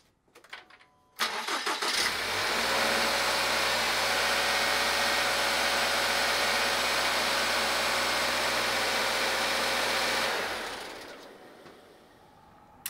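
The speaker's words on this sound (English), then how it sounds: "and then now we start the vehicle." Vehicle engine cranks and starts after a second of quiet, then idles steadily and loudly for about eight seconds before shutting off and fading, with no talk.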